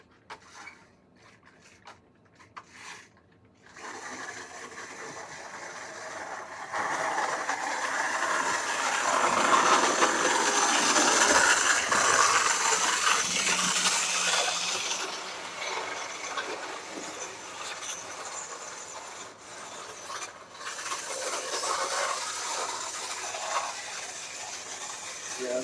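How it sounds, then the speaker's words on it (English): A noisy model railway locomotive motor runs for a long stretch, a whirring, gear-rattling drone that swells in the middle and eases off, with a few clicks and knocks. "that motor's a bit noisy now."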